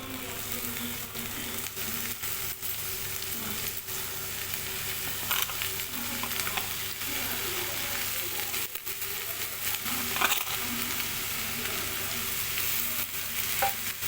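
Ivy gourd pieces fry in a pan with chillies and curry leaves, a steady close sizzle with scraping stir strokes throughout and no talking.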